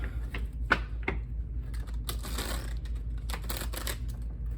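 Light Seers Tarot cards are shuffled in quick riffling bursts, with scattered taps and flicks between them, close and fairly quiet.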